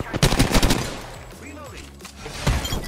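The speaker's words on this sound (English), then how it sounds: "Opening fire on the enemy." Gunfire in the video game Apex Legends, a quick burst of shots at the start that fades into game sounds and then picks up again, mixed with in-game voice lines.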